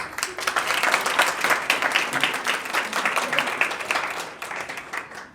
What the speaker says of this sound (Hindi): एक दफ़ा अपने लिए तालियां।